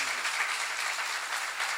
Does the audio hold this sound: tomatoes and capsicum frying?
no